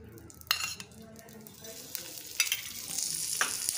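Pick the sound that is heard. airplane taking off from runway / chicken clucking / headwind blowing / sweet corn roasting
sweet corn roasting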